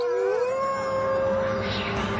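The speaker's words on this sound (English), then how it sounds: "even now you are familiar with the howls of your predecessor" A wolf howls in one long, sustained, rising then steady tone, loud and close, alone with no other sounds.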